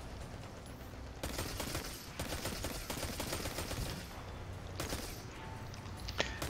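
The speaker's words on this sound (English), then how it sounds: "Am I being shot at?" Sustained gunfire in the video game Destiny 2, a dense steady stream of rapid shots with a sharp crack near the end, filling the whole stretch at moderate level with no talking.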